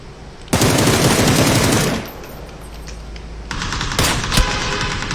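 Automatic rifle fire in PUBG rattles loudly in long rapid bursts, then after a lull returns as more sustained shooting with a couple of sharper, punchier shots, close and dominant.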